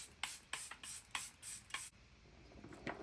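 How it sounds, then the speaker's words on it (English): Charlotte Tilbury setting spray misted in six quick hissing bursts in a steady rhythm, close and fairly soft, followed by quiet room background. "Charlotte Tilbury setting spray, guys."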